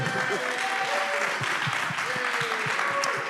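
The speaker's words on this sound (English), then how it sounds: "Y'all can go ahead and clap." Applause from the audience at a political rally in Virginia, a steady wash of clapping with faint voices and low thumps mixed in beneath it.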